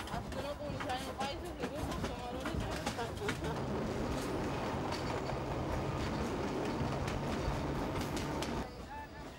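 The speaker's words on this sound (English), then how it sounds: "Saeed Mohammed travels by train 3 times every 15 days" A passenger train running on rails in Ethiopia on the route toward Djibouti, a steady dense rumble with clickety-clack and squealing metal, close and loud throughout, easing off near the end with birds chirping faintly.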